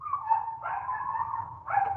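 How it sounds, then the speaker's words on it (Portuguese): A dog gives a drawn-out whining, yelping bark-like cry lasting a couple of seconds, fairly close and clear, with no talk over it. "tem um cachorro latindo aí"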